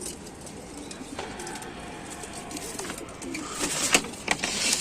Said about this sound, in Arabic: حمامتين زوغين ما شاء الله يعني